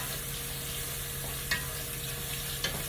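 Green beans with smoked sausage and potato cooking down in a pan, a steady close sizzle with a low hum and two brief stirring clinks.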